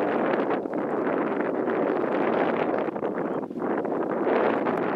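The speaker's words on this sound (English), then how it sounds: "Bit windy, breezy." Wind gusts over an outdoor wild camp, buffeting the microphone in a steady broadband roar that swells and dips slightly, with no voices.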